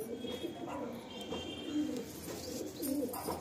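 Madrasi pigeons in a loft give soft, throaty coos that recur every second or so over a steady hum of background noise.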